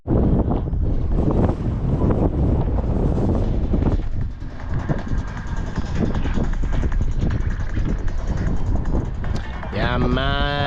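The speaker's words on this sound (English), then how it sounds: "Wind is so strong, man." Strong wind buffets a boat and the microphone with loud, roaring gusty rumble that stays heavy throughout, with a brief voice-like tonal sound near the end.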